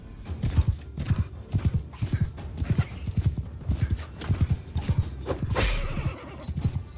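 Horses galloping during a cavalry battle in the game Mount & Blade 2: Bannerlord, a steady rapid drumming of hooves with an occasional whinny, close and continuous throughout.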